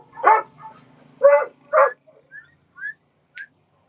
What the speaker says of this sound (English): I know my dog is barking super loud.